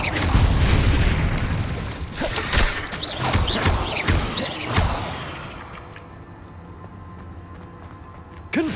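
Confringo fire-blast spells in the Hogwarts Legacy video game erupt as a dense run of crashing booms and clattering impacts, then fade to a quieter lull before one last hit.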